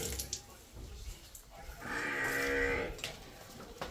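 A cow lets out one long, fairly close moo partway through, over faint background noise.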